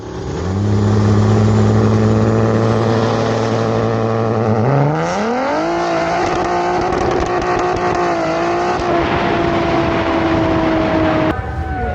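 A loud turbocharged Nissan Z engine with upgraded turbos holds a steady high rev on launch control, then climbs sharply in pitch and roars on at higher revs, with a brief cut at the end.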